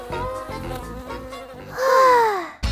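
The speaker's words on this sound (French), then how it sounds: "j'ai peur des abeilles" Bees buzzing close by in a children's outdoor setting, a fluctuating whining drone that rises in pitch and loudness near the end before cutting off abruptly.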